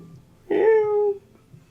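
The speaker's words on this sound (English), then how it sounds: "You hear the sound of a cat" A cat gives one clear, drawn-out meow lasting under a second against a quiet background, close and fairly loud.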